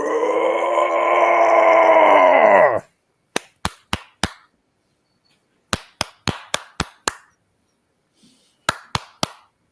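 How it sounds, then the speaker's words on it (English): Knocking in a recorded clip comes in crisp, close groups of three, then six, then three raps separated by silence, after an opening stretch of a sustained droning tone. "no, it was a knocking"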